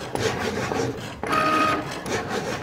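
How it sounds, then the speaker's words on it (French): Printer running a print job for a Cricut Maker 3 craft project, close mechanical whirring and rasping feed with a sharp shift midway, continuous and fairly loud. "Et donc c'est reconnu et on imprime."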